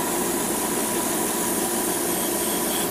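An airbrush with a hole from damage gives off a steady hiss mixed with a rough buzzing rattle. The sound is continuous and close, with no voices.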